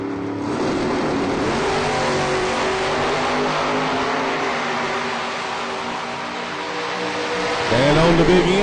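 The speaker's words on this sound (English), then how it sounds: "This race could be won right off the starting gate." Drag race cars, including a Chevy II wagon, roar loudly off the starting line in a sustained, saturated engine blast, with a fresh revving surge near the end.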